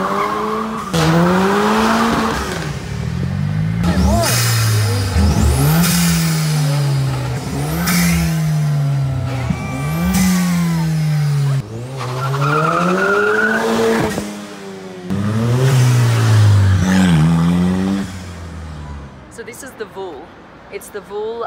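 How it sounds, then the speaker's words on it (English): A Mexican-made VUHL 05 supercar drives through Mexico City, its engine revving hard in repeated rising and falling pulls through the gears, close and loud, with a voice talking over parts of it. "driving around in Mexico City in a Mexican-made and designed supercar"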